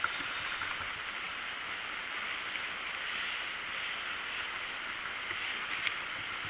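Continuous soft hiss of a hand whisk stirring cold process soap batter, steady and even throughout with no distinct strokes and no voices.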